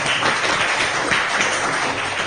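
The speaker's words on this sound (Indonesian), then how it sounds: "tepuk tangan untuk kelompok 1" A school class applauds a student group after its presentation, a brief, muffled wash of clapping from a small room audience lasting a couple of seconds.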